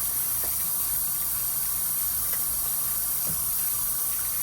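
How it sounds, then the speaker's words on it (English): Eggs are rinsed under a running kitchen tap, a steady, close hiss of flowing water that continues evenly throughout with no talking. "now I'm gonna come over here and rinse these eggs off"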